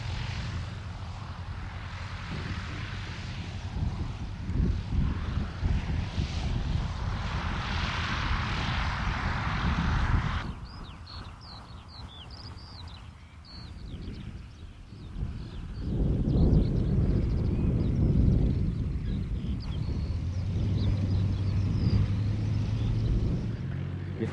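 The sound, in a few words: Yak-52 propeller aircraft flaring and landing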